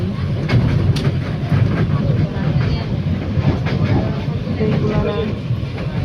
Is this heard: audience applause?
no